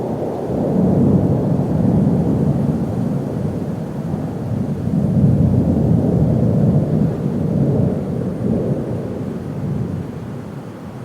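A storm outdoors, with wind and heavy rain lashing down. It makes a loud, steady, low rumbling roar that swells and eases for the whole stretch, and no one speaks.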